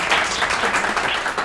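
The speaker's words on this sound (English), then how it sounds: "Everyone clap for Nasha." An audience claps on a TV commercial shoot, a dense, even patter of many hands, loud and continuous throughout.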